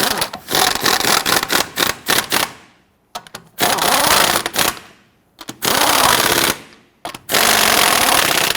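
Loud impact-wrench bursts snugging lug nuts onto a Nissan Frontier wheel, several rapid hammering runs of a second or two each separated by short pauses.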